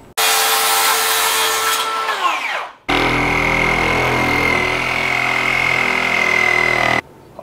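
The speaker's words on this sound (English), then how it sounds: "All right, so cut the post and then running a 2x8 cap along the top." A wooden barn stall post being cut with a power saw, a steady loud whine of the blade biting through the wood for several seconds, a brief pause, then a second long cut ending abruptly.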